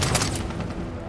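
Rapid gunfire crackles from a fast-firing gun in the video game Far Cry 3, a brief dense burst of shots in quick succession, loud and close.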